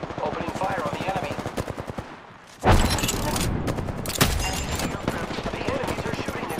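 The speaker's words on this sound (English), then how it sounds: "The enemies are shooting at me" Rapid bursts of automatic gunfire in an Apex Legends match, loud and continuous with a brief lull before a heavier volley of shots resumes. Game voices talk underneath the firing.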